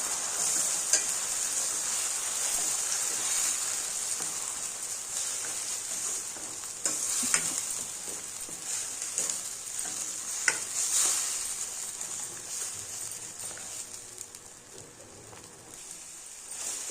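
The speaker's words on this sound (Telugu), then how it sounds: "ఇందులోకి పేస్ట్ అండి ఇది మసాలా కొద్దిగా పసుపు వేసి కాసేపు మగ్గనిద్దాము" Masala paste with a little turmeric sizzles and is stirred in a pan, a continuous close frying hiss with occasional scrapes and knocks of the spoon.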